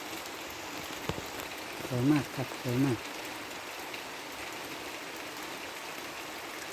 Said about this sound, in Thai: หยาดน้ำฝนโปรยปลาย